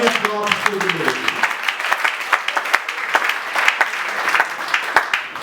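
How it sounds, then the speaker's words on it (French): A church congregation claps for the Lord during a sermon: dense, steady applause of many hands that carries on for several seconds after a brief voice at the start. "Can we clap for the Lord?"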